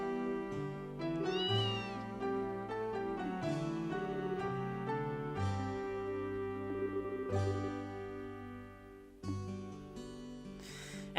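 In Trails in the Sky FC, a cat meows several times, with short rising calls over bright, steady game music.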